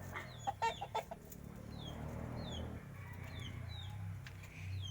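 Farm chickens cluck in short bursts near the start beside a backyard roost, then settle into a steady low murmur while small birds chirp faintly overhead.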